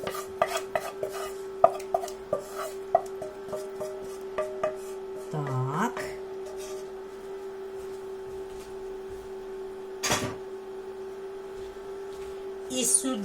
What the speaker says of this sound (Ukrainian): Тепер ми це звідси висипаємо в тарілку.